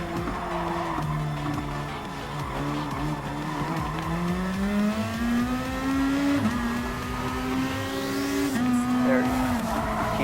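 Super GT race car in Gran Turismo Sport accelerating through a corner at Autopolis, engine tone climbing steadily and shifting pitch, with faint tire squeal and a voice talking over it.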